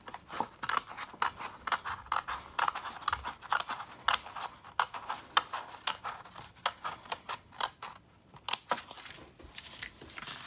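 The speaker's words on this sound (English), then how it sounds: "you use a little sharp scissors like so, and you carefully make a hole and then cut into the" Small sharp scissors snip repeatedly at card, a series of crisp close clicks and cuts in an uneven rhythm, with brief pauses between bursts.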